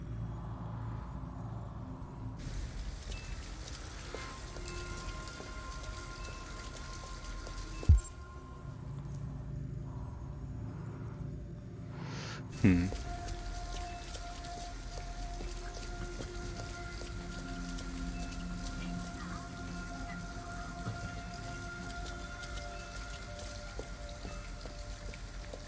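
Rain in Detroit: Become Human, falling steadily on surfaces as a soft even patter, with a couple of sharp knocks and faint low hum in the background, no one speaking.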